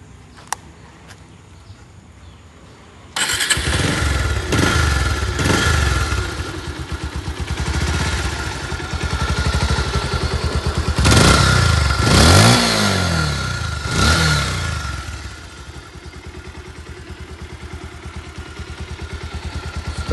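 A used Bajaj Pulsar 150cc single-disc motorcycle engine starts after a brief quiet moment, then idles and revs up and down several times, loud and close, settling back to a steady idle.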